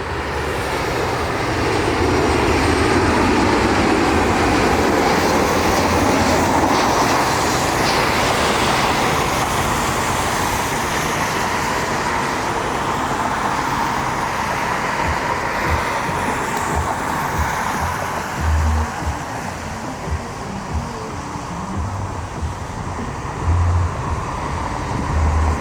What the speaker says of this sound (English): Alaska 216 taxis over to the runway